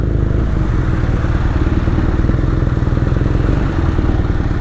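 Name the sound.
BMW R nineT motorcycle exhaust at high revs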